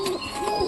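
A pigeon coos once, close and soft, among pairing birds in a pigeon loft.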